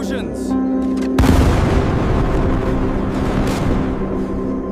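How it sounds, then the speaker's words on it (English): Explosion sound effect in a wartime jungle setting: a sudden heavy boom breaks in after a second, followed by sustained rumbling, crackling blast noise, loud and dense throughout. "Explosions!"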